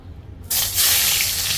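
Chopped onion and green chillies hit hot oil in an Assamese home kitchen, setting off a sudden loud, close sizzle that keeps hissing steadily after a brief quiet start.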